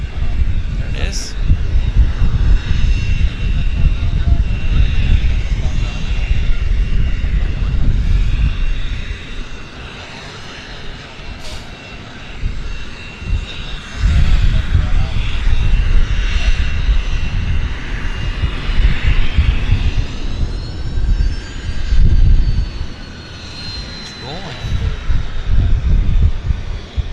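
A WestJet airliner, flight 166 bound for Edmonton, passes at Vancouver Airport with a steady loud engine roar and wind buffeting throughout, rising and falling in waves, while people talk over it.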